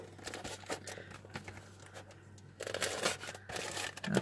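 Blade lightly cutting open a plastic packaging bag around a resin model car. Quiet crinkling and slicing bursts come close up, growing louder toward the end.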